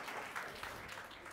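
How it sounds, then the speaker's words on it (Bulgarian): Audience applause for Kamen Kozarev at a science night event, a soft, steady patter of clapping from a crowd, fairly quiet and heard on its own. "Аплодисменти за Камен Козарев"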